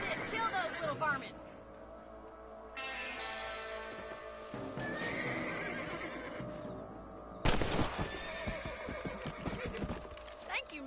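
Horses in Red Dead Redemption whinny and neigh loudly amid clopping hooves, the calls separated by quieter stretches, with voices speaking over parts of it.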